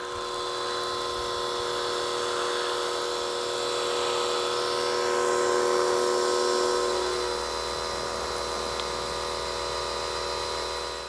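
A Sun Joe SPX3000 electric pressure washer sprays soap onto carpet, a steady whining motor hum with hissing spray, continuous and moderately loud, shifting slightly in tone partway through.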